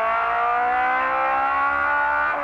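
A 1971 Ford Escort RS 1600 engine screams at high revs in second gear, a loud, sustained rising in-car engine howl with no gaps.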